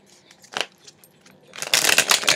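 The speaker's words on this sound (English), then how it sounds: "I think it needs a little bit more shuffling." A deck of tarot cards being shuffled, a few soft riffles at first and then a louder, denser burst of rapid flapping and clicking close up.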